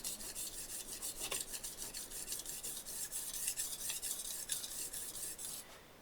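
A kitchen knife is drawn across a rough house brick in quick repeated rasping strokes, a close, steady scraping rhythm that eases off at the end, with no talking.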